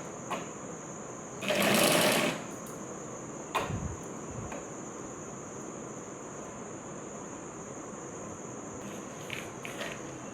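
A sewing machine stitches around a blouse back neck in a short whirring burst, followed by faint handling knocks and a steady high background hum.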